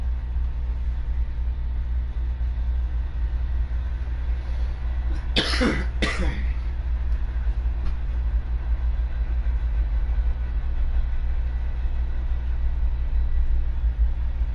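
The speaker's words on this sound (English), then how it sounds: "You guys hear the fucking train?" A low, steady rumble of a passing train runs throughout, with a single sharp cough breaking through briefly partway along.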